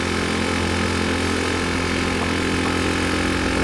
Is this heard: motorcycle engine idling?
yes